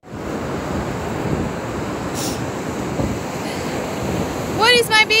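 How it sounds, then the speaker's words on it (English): Ocean surf washing onto a beach, a steady broad roar of breaking waves with wind buffeting throughout, and a brief high chirpy sound near the end. "It's water. Ocean,"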